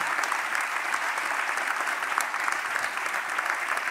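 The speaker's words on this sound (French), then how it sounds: "On vous applaudit pour vous remercier très chaleureusement" Warm audience applause follows a public evening talk on polar ice caps and Mediterranean sea levels, a sustained, even roar of many hands clapping at a distance, steady and moderately quiet.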